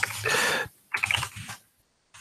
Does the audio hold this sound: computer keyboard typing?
yes